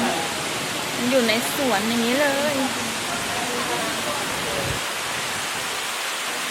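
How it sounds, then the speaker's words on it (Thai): A waterfall in a garden in Rayong, Thailand, gives a steady, close hiss of rushing water while someone speaks over it. "มีน้ำตก"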